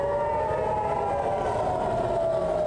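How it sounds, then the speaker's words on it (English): Air raid siren wailing over central Israel and Tel Aviv during a rocket barrage, a sustained tone slowly falling in pitch over a steady background rumble, with no talk. "sirens sounded in various areas in the central region and Tel Aviv today"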